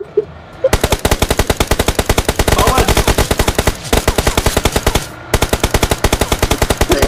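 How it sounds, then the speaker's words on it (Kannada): Rapid automatic gunfire rattles in the BGMI battle royale game, long loud bursts of evenly spaced shots with two brief pauses, close and dominant. "ಇದರಲ್ಲಿ ಗುಂಡಿನ ಚಕಮಕಿ ಇರಲಿ, ಗುಂಡಿನ ಚಕಮಕಿ ಇರಲಿ"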